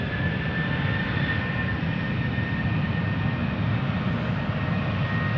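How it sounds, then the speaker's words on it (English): A Norwegian airliner in special livery, bound for Stockholm, passes at Schiphol Airport with a steady, loud broadband jet roar held throughout and no voices. "Norwegian Bjornstjerne Bjornson special livery going to Stockholm"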